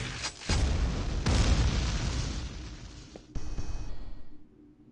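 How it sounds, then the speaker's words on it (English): Explosive barrels blown up by gunfire in Quake 2: several loud, close booms in succession, each broad blast fading into rumbling debris, with a final burst before the noise trails off. "Shoot barrels to make them explode."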